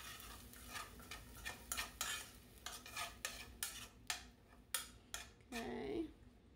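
Black beans are stirred into sweet potato in a pan, with a rhythmic series of spoon scrapes and clacks against the pan, fairly quiet and close, with a faint sizzle underneath.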